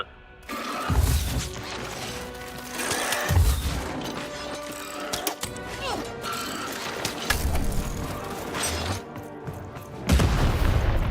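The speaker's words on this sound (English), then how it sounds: "Shoot the button to fire the cannon." Cannon shots boom in the game Lost in Random, several heavy low blasts spaced a few seconds apart amid mechanical clanks, rattles and music-like tones.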